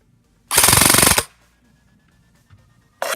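An Echo 1 M16 Platinum Edition airsoft rifle, unmodified, fires a fast full-auto burst of about 23 rounds per second lasting under a second, loud and close, followed by quiet and a brief second burst at the end.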